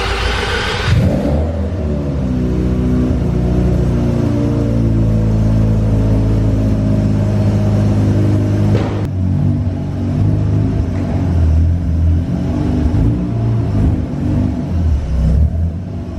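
A Mazda RX-7's engine starts up and revs steadily, a loud, continuous near rumble with a low droning tone that holds for about fifteen seconds, shifting slightly near the end.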